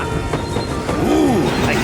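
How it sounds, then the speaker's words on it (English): Cartoon train pulling into a station, with a rumbling roll and a rising then falling whistle-like squeal near the end, heard under a voice speaking. "our train is here"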